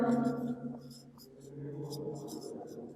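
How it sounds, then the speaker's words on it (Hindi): Chalk or marker scratches across a board in a discrete mathematics lecture as short, crisp strokes in irregular bursts, heard beneath a teacher's ongoing speech. "तो यहाँ पर हम लिखेंगे माना"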